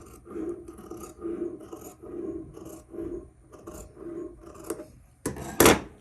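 Scissors trim a dress seam allowance with a series of rhythmic close snips and rasping cuts, ending in a louder sharp rustle of fabric.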